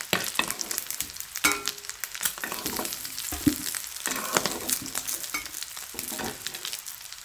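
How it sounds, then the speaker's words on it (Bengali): Cut potatoes fry in hot oil in a pan, browning for a potato and egg curry; a steady loud sizzle is broken by clattering stirs, with no talking. "কেটে রাখা আলুগুলো আমি ভেজে নেব সুন্দর করে"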